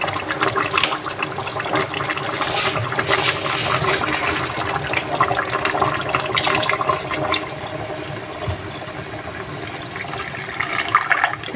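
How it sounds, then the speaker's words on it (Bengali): Hot water is poured into a pot of desi chicken curry, a sustained rushing, splashing pour that runs for several seconds and then settles into lighter bubbling and sloshing, close and fairly loud. "এই পর্যায়ে এখন দিয়ে দেবো আমি গরম পানি।"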